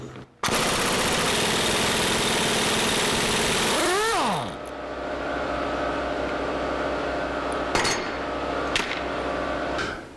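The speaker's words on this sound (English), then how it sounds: "let's see if this impact will take this pinion bolt off" Impact wrench hammering at a pinion bolt on the axle of a 1982 Jeep CJ7, a loud continuous rattling burst lasting about four seconds that spins down, followed by a low hum and a couple of sharp clanks.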